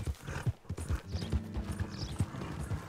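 Rhythmic clip-clop of horse hooves at a steady gait in Red Dead Redemption 2, close and clear, with a faint whinny-like sound and no talking.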